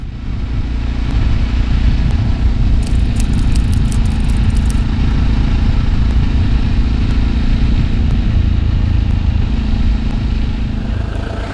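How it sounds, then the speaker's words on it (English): A pair of classic Java motorcycles ride along a smooth, twisting road through woods, engines droning loud and close in a sustained, rough rumble. Faint crackling ticks sit over the steady roar. "Me and my dad today riding Java from Java Motorcycles Lithuania"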